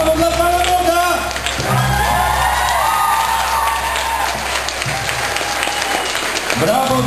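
A church hall audience applauds steadily and loudly after a Christian band's concert, with scattered cheers and shouts in the crowd and someone talking over the clapping.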